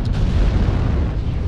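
Artillery strike explosions in a mech combat video game: a dense, loud, rumbling boom that fills the whole moment with heavy low-end roar, no voices over it.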